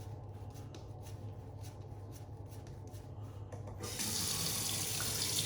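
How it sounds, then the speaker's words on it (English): Water runs steadily from a tap into a home aquarium, a constant close splashing stream that grows louder and brighter partway through. "we're going to keep adding water to this because we can"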